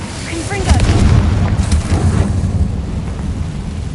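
A Confringo blasting curse goes off in the Hogwarts Legacy game world, one loud booming explosion that rolls out with a rumbling, windy tail. Speech runs over the blast.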